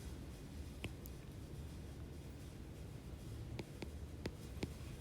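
A pencil sketches an angle on paper by hand for a trig problem, giving a few faint, brief scratchy strokes over a steady low hiss of room noise.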